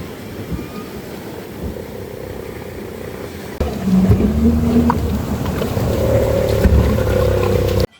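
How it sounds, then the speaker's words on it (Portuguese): Boats entering the shallows at Praia do Meio in Trindade near Paraty, a steady engine drone that grows louder and closer midway, over a constant wash of surf. "Aqui na Praia do Meio os barcos também entram assim."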